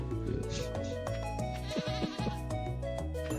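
Sheep bleating in the farming game Stardew Valley, several loud wavering bleats repeating over background game music, close and clear.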